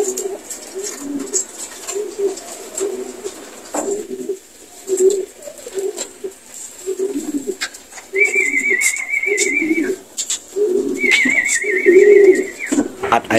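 Homing pigeons at a loft in San Andres, Quezon coo in soft repeated bursts, joined by two sustained high whistling tones in the second half, with a faint background hum throughout.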